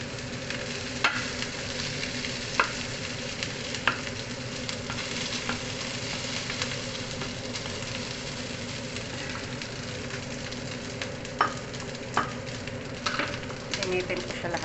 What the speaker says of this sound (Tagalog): Initin ko siya lahat. Gawing fried rice.